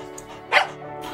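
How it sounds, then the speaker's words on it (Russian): A small dog in the video game Tiny Bunny lets out a single short yap, fairly quiet and brief over a soft steady game backdrop. "Услышав мой голос, собака тяфнула, прижала уши, затем принюхалась и зафиляла хвостом."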